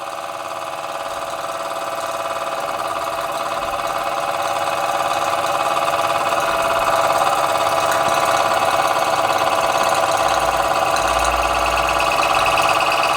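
Kleinemeier model steam engine running steadily, flywheel turning, a continuous even mechanical hum with rapid fine ticking that grows slightly louder over time, no voices.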